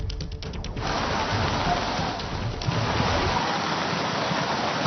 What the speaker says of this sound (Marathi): सकाळपासून नाशिकमध्ये पावसाचा जोर हा वाढला आहे